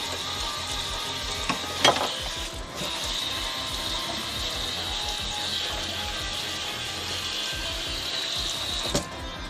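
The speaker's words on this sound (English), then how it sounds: "I'm using a whisk to help combine the sauce and everything a little better" A whisk works through beef stroganoff sauce in a hot pan, giving a steady bubbling sizzle with occasional sharp scrapes and taps against the pan, with no one speaking.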